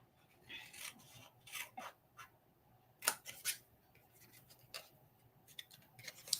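Scissors snipping through craft paper while making cow-themed party favor boxes, faint, quiet cuts in short irregular clusters with soft rustling and handling noise between them.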